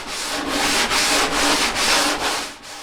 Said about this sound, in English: The leveling is done by hand. First 80 grit paper,